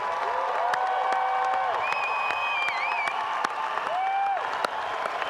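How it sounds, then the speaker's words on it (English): A crowd at a winter commencement applauding the graduating class continuously, dense clapping with scattered sharper claps and a few rising and falling whistles over the top. "How about a round of applause for the class of 2018?"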